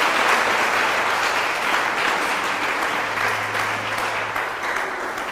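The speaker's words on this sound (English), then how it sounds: "let's give them a round of applause" An audience at a school Bible quiz contest claps steadily and loudly, a dense sustained round of applause that fades slightly toward the end.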